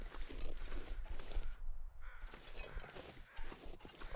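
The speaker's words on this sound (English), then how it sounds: "Okay, I hear crows." Crows cawing in the snowy wilderness of The Long Dark, harsh repeated calls from some distance, broken by a short quiet gap midway and continuing after it.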